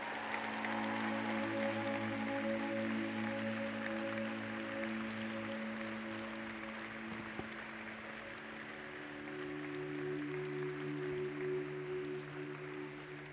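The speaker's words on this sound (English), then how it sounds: "Everybody else, let's cheer for them again because we're so proud of them." A church congregation applauding and cheering, a sustained dense wash of clapping that holds steady for many seconds beneath organ or keyboard chords.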